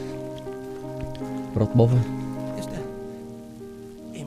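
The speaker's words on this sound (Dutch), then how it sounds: "In de regen." Rain falls in the World War I video game Valiant Hearts, a soft steady patter beneath sustained game music, with a brief spoken word partway through.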